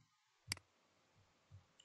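A single sharp computer mouse click during a Moodle tutorial, close and crisp in a quiet room, followed by faint soft handling noises.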